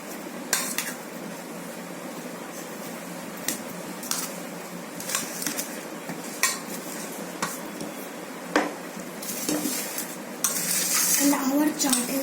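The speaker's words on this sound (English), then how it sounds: "Now we have to mix some chaat masala. I will mix it with the help of this spoon." A spoon stirs chaat masala into a chaat mixture in a bowl. It makes repeated light clinks and scrapes against the dish over a soft background hiss, close and moderately loud, with a brief louder rustle near the end.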